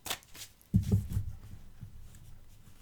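Tarot cards being turned over and shuffled close by in a quiet room, a few soft papery flicks and a brief burst of shuffling.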